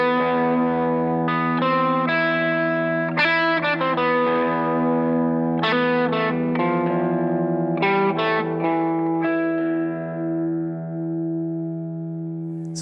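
Electric guitar run through effects and distortion improvises a phrase in Phrygian mode, with sustained, reverberant notes picked one after another in an uneven rhythm, played alone and close.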